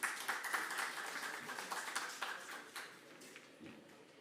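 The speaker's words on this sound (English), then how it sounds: "Let's give a round of applause for Dirk." A modest audience at a carbon markets panel in a conference pavilion gives a round of applause, scattered claps that start fairly clear and fade gradually over a few seconds.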